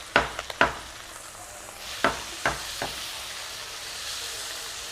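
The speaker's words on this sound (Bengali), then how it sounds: "মাছের তেলটা ভাজা হয়ে গেছে" Small cut pieces of fish fat fry in hot oil with turmeric, a steady sizzle broken by several sharp clatters of stirring that fade toward the end, with no voices.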